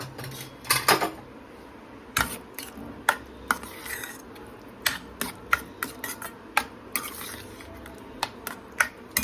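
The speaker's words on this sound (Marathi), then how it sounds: "छान भाजी आता घोटून घेते" A utensil knocks and scrapes against a pan while mashing a Vidarbha-style brinjal curry, giving a string of sharp, irregular metallic clinks, close and fairly loud, with soft stirring sounds in between.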